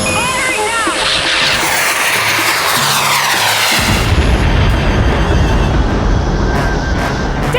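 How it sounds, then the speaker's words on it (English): In a sci-fi audio drama set in the UFO universe, interceptor craft fire on their targets: a loud roaring engine with sweeping whines gives way to a dense, crackling barrage of firing that fills the whole stretch. "Interceptors now within firing range of targets. Firing now!"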